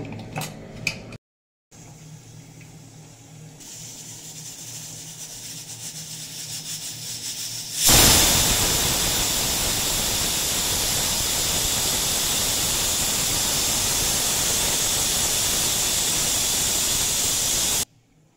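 A pressure cooker whistles while mutton cooks in a home kitchen. Quieter kitchen noise comes first, then a sudden loud, steady hiss of escaping steam lasts about ten seconds before cutting off.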